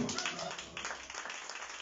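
Congregation at a church service applauding, a steady wash of clapping that holds through the whole stretch, with a voice talking over it.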